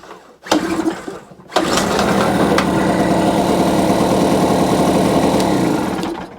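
A scrapped petrol generator runs as a loud, close engine. A short burst after the pull start dies out, then it fires again and runs steadily for about five seconds before shutting off.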